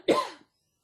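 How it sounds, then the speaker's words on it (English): A single sharp, close cough with a throaty burst that tails off quickly into silence, heard alone with no talking. "I've got a cough coming"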